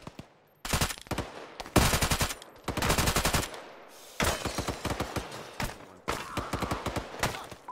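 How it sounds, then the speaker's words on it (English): Automatic gunfire in an Arma military simulation, several loud, close bursts of rapid shots separated by short pauses, with no talk over them. "I'm shooting at it."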